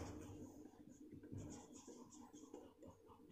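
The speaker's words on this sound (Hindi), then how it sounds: "तो यहाँ पर लिख सकते हैं, यहाँ पर" Faint scratchy strokes of writing on a board during a class 10 maths lesson, a soft intermittent scraping over a few seconds.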